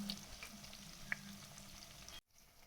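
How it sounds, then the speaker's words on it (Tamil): Steady sizzling and crackling of shallots frying in hot oil, close and moderately quiet, cutting off abruptly near the end. "சின்ன வெங்காயம் நல்லா ப்ரௌன் கலரில் வதங்கட்டும்"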